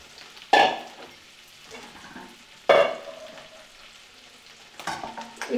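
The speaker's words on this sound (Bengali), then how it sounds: "পেঁয়াজটাকে ব্রাউন করে ভেজে নিব" Onions frying in a pan to brown, with a soft continuous sizzle and three sharp stirring scrapes of a spoon against the pan, heard close and alone.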